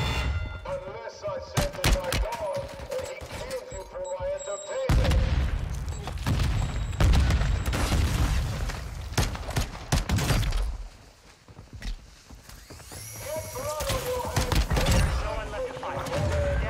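Gunfire in the video game Warzone 2.0: repeated sharp shots and bursts crack through most of the stretch, with a lull near the middle, while someone talks over much of it.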